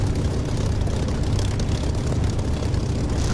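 A propeller aircraft engine roars steadily during takeoff in the DCS flight simulator, a loud continuous low drone with broadband rumble that holds throughout.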